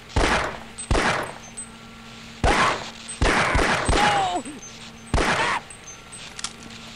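Bursts of gunfire in the video game Half-Life, several short loud volleys of rapid shots with brief gaps and ricochet-like whines between them.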